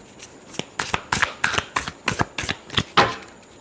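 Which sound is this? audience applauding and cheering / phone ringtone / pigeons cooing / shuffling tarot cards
shuffling tarot cards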